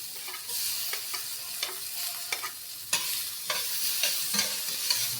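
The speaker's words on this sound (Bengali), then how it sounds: "গাজরটা আমি কয়েক সেকেন্ড একটু সতে করে নেব" Carrot sautéing with onions in a pan over a low flame, a soft steady sizzle broken by repeated scraping stirs of the spoon, close up with no voices.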